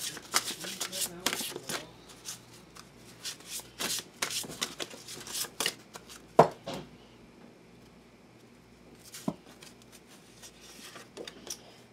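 Gemstone oracle cards shuffled by hand in a long series of crisp riffling bursts with brief pauses between, up close and fairly quiet.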